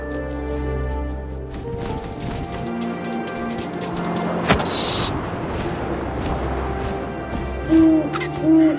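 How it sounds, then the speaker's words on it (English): An owl hoots in the video game What Remains of Edith Finch, its low tones rising near the end over a layered wash of ambient music and wind-like game sound. "And suddenly, I was an owl."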